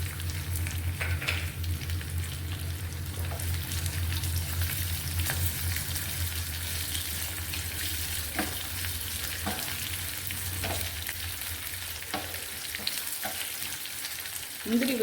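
Cashews fry with ginger and curry leaves in a pan for ven pongal, a soft continuous sizzle with occasional spoon scrapes and taps, close but fairly quiet.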